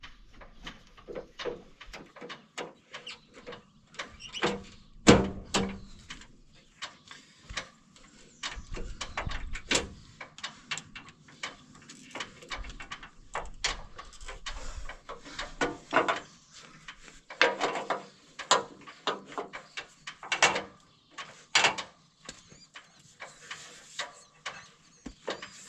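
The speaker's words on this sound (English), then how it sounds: "I don't know what's creaking in the back there. Row units moving." Tractor planter row units creak and knock as they move, an irregular run of sharp wooden and metallic clicks, squeaks and clunks that come in clusters of varying loudness over a quiet background.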